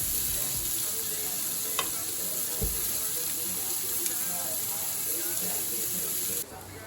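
Shrimp and fish pieces fry in a hot pan for tacos with a loud, constant hiss and crackle. A few faint clicks come as the pieces are flipped, and the sizzle drops slightly right at the end.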